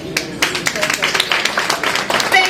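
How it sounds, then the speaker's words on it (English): Audience applause at a political event, a short burst of scattered clapping heard close, with some voices under it. "Thank you for the applause"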